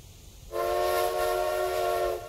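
A steam locomotive whistle from the train game Railway Empire gives one long, loud, steady blast with strong harmonic bands that holds for nearly two seconds before cutting off, heard alone without talk.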